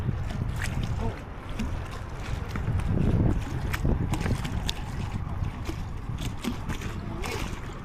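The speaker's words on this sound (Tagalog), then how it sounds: "Sarap naman ng hangin, lakas." Strong wind blowing outdoors: a continuous rushing roar buffeting the microphone, swelling in the middle, with people talking over it.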